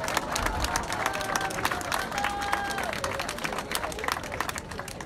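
A crowd at an outdoor seafront promenade inauguration in Vias Plage applauds and cheers in a steady, dense wash of clapping lasting the whole stretch, with voices mixed faintly underneath.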